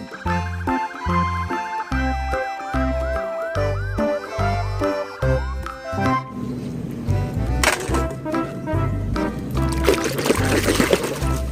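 Toy white police car siren cycling in a rhythmic electronic wail, later joined by rattling and splashing noises as it plays on, loud and near with no voices.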